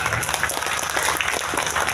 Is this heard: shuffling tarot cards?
no